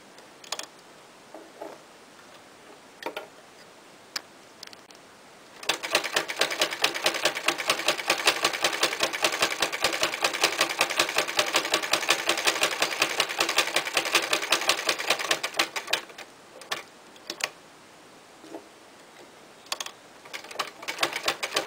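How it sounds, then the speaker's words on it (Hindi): A sewing machine stitching a cushion cover made from old clothes, with a few isolated clicks at first, then a fast steady rattling run of stitching for about ten seconds, followed by short bursts and clicks. It is fairly close and has no talk. "तो मैं इन्हें स्टिच करूँगी आपस में।"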